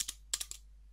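A command typed on a computer keyboard in Kali Linux: a brief cluster of about five or six crisp, close key taps in under a second, over a faint steady hum.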